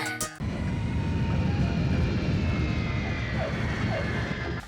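An airplane lands in rain with a loud, low engine roar that swells in after a brief cut and holds steady close by, with no talk over it.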